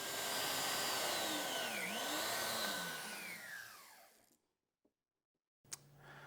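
Biscuit joiner plunging into wood to cut a slot for a Greene & Greene picture frame: a loud, close motor whine that sweeps down and back up as the blade bites, then spins down to silence, followed by a click and light handling.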